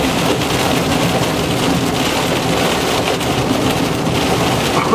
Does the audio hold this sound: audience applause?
no